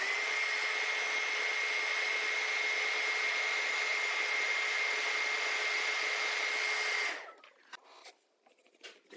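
A handheld heat tool warms crayon wax with a steady, even whir that runs for about seven seconds, then shuts off, leaving only faint handling noises.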